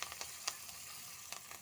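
Curry leaves and green chillies crackle faintly in tempering oil, with soft sizzling and a few small pops close by.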